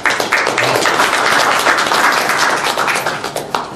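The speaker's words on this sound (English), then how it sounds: "The staff always leads in the applause" Steady, fairly loud applause from an audience at a hockey team announcement, with dense claps throughout that thin slightly toward the end.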